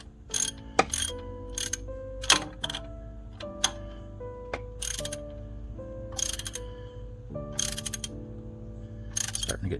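Ratcheting and metallic clicks while an alternator bolt is tightened on a Dodge 3500 diesel, close and crisp in short repeated bursts with pauses between them, alongside tonal ringing from the work area.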